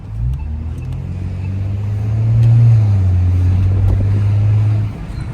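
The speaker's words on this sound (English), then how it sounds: "So downshift, boom, boom, boom, boom." A car engine rumbles loudly and close by during a downshift, rising in a low surge and then easing off over a few seconds. No voices are heard.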